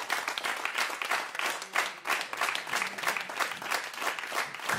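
A jazz concert audience applauds after a quintet's set, with steady, fairly distant clapping from a full room that rises and falls slightly throughout.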